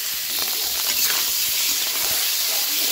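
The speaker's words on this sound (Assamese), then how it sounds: "এইখিনি মাছখিনি মই ফ্ৰাই কৰিলোঁ।" Small fish frying in a wok over the stove, a steady close hiss and sizzle of hot oil running throughout with soft crackles and no talking.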